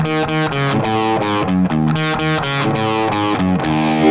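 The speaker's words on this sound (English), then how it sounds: "They've got the delay pedal there and a little bit of reverb" Distorted electric guitar run through a delay pedal with a touch of reverb plays choppy, rhythmic diminished chords, with repeated stabs echoing between strikes; loud and alone.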